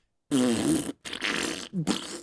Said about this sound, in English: there's like these thunderous farts as the title Rectuma descends onto the screen